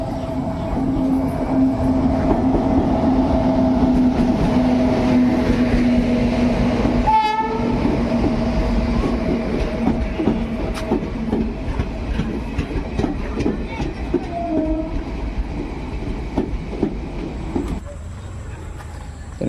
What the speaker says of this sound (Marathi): तर मित्रांनो ट्रेन इली